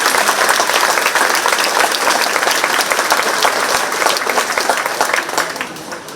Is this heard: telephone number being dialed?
no